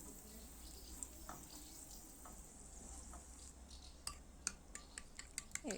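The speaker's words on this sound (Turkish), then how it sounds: "ağır ateşte yavaş yavaş çevire çevire kızartıyorum" Quiet, steady sizzling of hot peppers frying slowly over low heat in a pan, turned often, with a few light clinks and scraping taps near the end.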